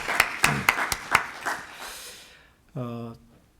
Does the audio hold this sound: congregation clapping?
yes